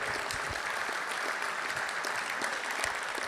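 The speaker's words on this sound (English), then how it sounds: "Give him a big round of applause." An event audience gives a round of applause, a dense, continuous wash of many hands clapping at an even level, heard somewhat distantly and without speech.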